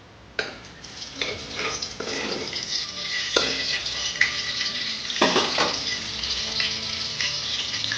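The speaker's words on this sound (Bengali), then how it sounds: "এইবার গোটা গরম মশলা ফোড়নটা দিয়ে দিলাম।" Whole garam masala, including opened cardamom pods, sizzling as a tempering in hot oil: a steady bright crackle close by, broken by metal spoon scrapes and clinks against the pot, with no talking.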